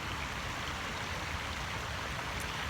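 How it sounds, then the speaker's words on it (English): A river flows steadily nearby, a soft continuous rush and babble of water with no voices. "Y'all hear that water?"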